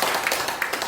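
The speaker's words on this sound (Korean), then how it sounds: "그 하나님께 영광의 박수를 올려드리겠습니다." Clapping from a church congregation during a Sunday worship service, a short burst of scattered hand claps heard briefly and fairly close, without any talking.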